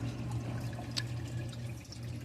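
Water trickles steadily from a Coral Works Riva aquarium filter over a low, constant hum, with a brief splash or drip standing out near the middle.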